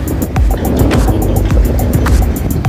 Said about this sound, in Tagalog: Yan, malakas ang hangin ngayon.